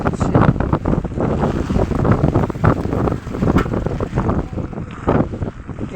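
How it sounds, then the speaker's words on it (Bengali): Heavy rain with strong wind gusting across an open outdoor spot, a loud, continuous roar of buffeting and pelting that swells and dips without pause and is heard with no voices. "এত বৃষ্টি হচ্ছে আর এত বাতাস হচ্ছে।"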